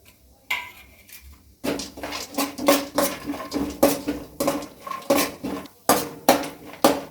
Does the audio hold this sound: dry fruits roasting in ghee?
yes